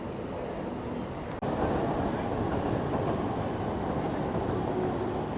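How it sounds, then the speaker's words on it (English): A long suburban train pulls in, a steady low rumble of wheels and carriages heard from a moderate distance, with a brief click partway through and no talking. "That's just a suburban train coming in."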